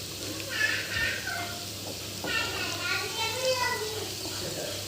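Chopped onions sizzling in a pan with half-fried bitter gourd: a faint, steady frying hiss that runs throughout beneath ongoing speech.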